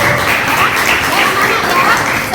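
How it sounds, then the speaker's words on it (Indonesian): A class gives a dense burst of continuous applause, many hands clapping together steadily and fairly loudly throughout. "Tepuk tangan untuk kita semua."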